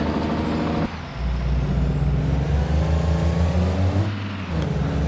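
Truck pulling around a barn and parking on a rough gravel farm path, a loud steady engine drone that dips briefly, with a hiss resembling air brakes and no talking.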